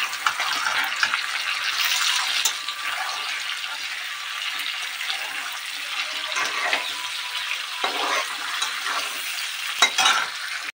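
Bhetki fish bones sizzling in hot oil while being stirred, a dense continuous frying crackle up close, broken by occasional scraping strokes of the spatula.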